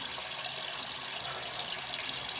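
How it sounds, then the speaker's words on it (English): Water gushes steadily from a freshly repaired tap during household cleaning, a continuous close hiss of flowing water with no breaks and no talking. "Yeah, water is just flowing."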